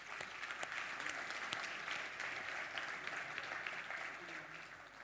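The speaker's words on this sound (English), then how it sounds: "Let's give them a round of applause." A roomful of people applauding sponsors at a conference event, steady clapping sustained for about five seconds, heard at a distance and fairly quiet.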